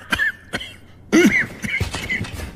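A person coughs a few times, sharp harsh bursts up close, followed by rougher throat sounds and coughing.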